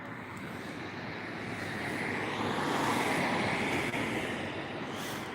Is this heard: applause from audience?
no